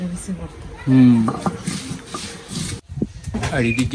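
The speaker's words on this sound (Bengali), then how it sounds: "আম্মু আর কাঁঠালের বিচিগুলো ভালোভাবে বেটে নিচ্ছে" Jackfruit seeds being ground on a grinding stone at home, a rough scraping and rubbing that comes and goes beneath steady talking close by.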